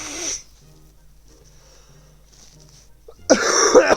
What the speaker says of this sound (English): let me quickly blow my nose